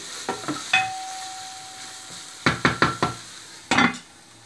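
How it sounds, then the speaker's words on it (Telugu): A lid is set on a cooking pot of kheema for egg biryani, a series of sharp metallic clanks and rattles, several in quick succession, with a brief ringing tone and quiet gaps between. "మూత పెట్టేద్దాం."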